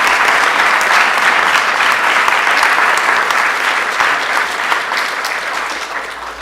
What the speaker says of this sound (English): Let's give Professor Gurnah another round of applause.